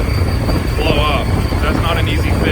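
A Z06 Corvette with a Texas Speed-built 7-liter, 11-to-1 compression engine, turned down to about 900 horsepower, roars loud and steady from inside the car with wind rush and a deep rumble. Voices are faint beneath it.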